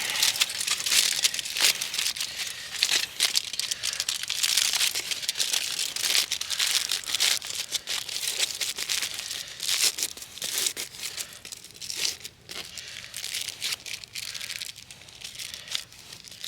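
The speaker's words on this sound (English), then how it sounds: "if I'm carrying something in tin foil, is I will just kind of fold it up" Tin foil being folded and creased by hand into a makeshift spatula outdoors on a trapline, a steady run of close, loud crinkling and crunching that continues throughout with no talk.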